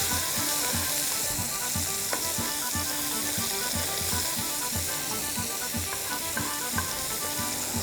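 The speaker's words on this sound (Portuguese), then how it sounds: "Depois disso, vou refogar aqui 1 colher de cebola." A spoonful of red or white onion sautés in bottle butter or oil, sizzling steadily with a bright crackling hiss and occasional stirring clicks and scrapes against the pan.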